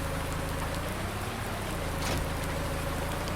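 Steady rain falls in the Farming Simulator 19 video game as a dense, even hiss of drops, continuous and fairly loud throughout with no talking.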